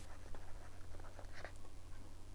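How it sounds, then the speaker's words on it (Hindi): A question being written out by hand during a spectroscopy lesson, soft close scratchy strokes in an irregular rhythm over a low steady hum. "यहाँ क्वेश्चन लिखता हूँ मैं"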